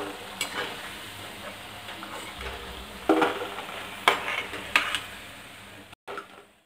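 Cauliflower florets deep-frying in hot oil in a kadai for Gobi Manchurian, a steady crackling sizzle with a few sharper pops and scrapes of a stirring spoon, close and continuous with no talk.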